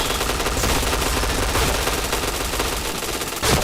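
Gunfire in a shooting video game, a loud, continuous rattle of rapid shots close up, with a sharper burst near the end.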